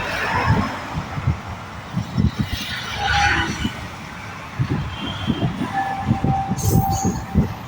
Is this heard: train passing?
yes